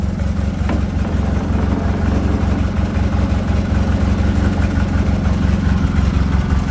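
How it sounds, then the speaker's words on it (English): A Bolens 1668 Hydro garden mini tractor engine idles steadily and loudly, with a low, even chugging rhythm that never changes, nearby and with no voices. "It's got a really, really lovely sounding engine."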